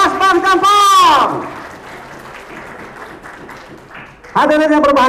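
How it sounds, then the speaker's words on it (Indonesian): At a student class project showcase, a crowd applauds for a class in a brief burst of broadband clapping, framed by an announcer's voice just before and just after. "Ya, boleh tepuk tangan untuk kelas Bang Jampang."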